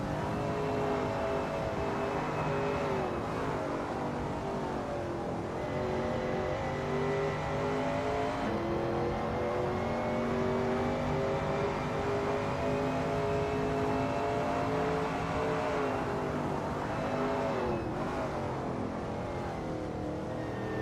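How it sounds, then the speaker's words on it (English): A Shelby Cobra 351 race car in a racing video game, driven at Donington Park, roars continuously for about twenty seconds, its engine pitch rising and dipping through repeated gear changes and throttle lifts. "Ryan Wilson is expertly commanding that car through Hollywood."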